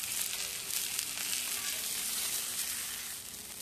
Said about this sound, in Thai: หมูโดนไฟบนกระทะสู้ซ่าเลย